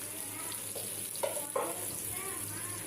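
Tilapia fish frying in hot oil, a steady low sizzle with a few soft clinks and stirring sounds, close by.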